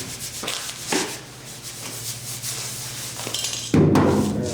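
A 120-grit disc sands the cab corner of a truck under restoration, rough abrasive rasping in repeated strokes that swells into a louder, harsher grind near the end, close and fairly loud.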